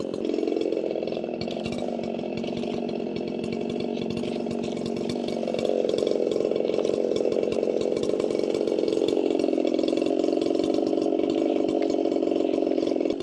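A chainsaw bucks locust logs outdoors, its engine roaring loud and steady close by for the whole stretch, the pitch shifting as it bites through the wood, with no voices.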